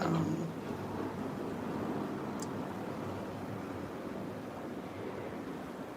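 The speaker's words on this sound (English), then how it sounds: "you could record the wind and surf" Wind and surf at a beach, a steady broad wash of breaking waves with gusty wind buffeting the microphone, fairly faint and continuous.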